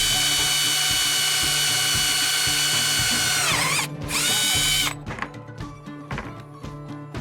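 Power drill boring mounting holes into a Hobie Mirage Passport 12.0 kayak hull, a loud close whine with rapid ratcheting pulses, a sudden pitch drop as the bit bites, then a spin-down with clattering.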